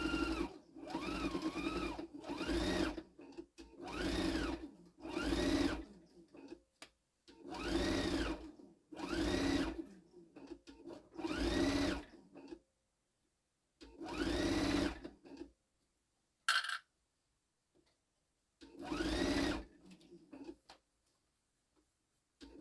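A sewing machine stitches a zipper onto a homemade fabric pouch in a series of short, whirring runs with a rhythmic mechanical hum, each burst a couple of seconds long and separated by quiet pauses, close and clear.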